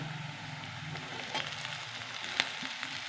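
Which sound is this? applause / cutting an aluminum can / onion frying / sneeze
onion frying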